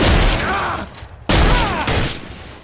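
Two sharp, booming gunshots go off about a second apart in Trouble in Terrorist Town, loud and close, each trailing off into a short echoing decay.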